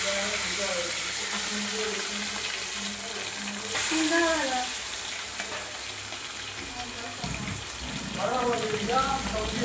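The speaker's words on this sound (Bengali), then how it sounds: "এবার মাছগুলো ভেজে নেব বেশি ভাজবো না এই মাছ অল্প ভাজতে হয়" Fish fries in a pan with a steady, dense sizzle running throughout, close and fairly loud, while a voice talks over it.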